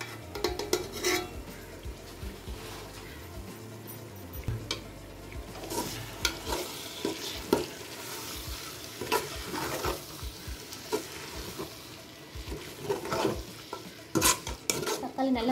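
Mint and coriander leaves sauté with tomato in a pot for mutton biryani, giving a continuous close sizzle broken up by frequent scraping and clinking of a spoon stirring against the pan.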